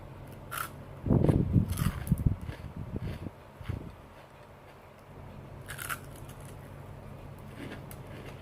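Crispy Thai rice crackers (khao taen) crunch between the teeth in a cluster of loud, close bites and chews early on, then quieter chewing follows.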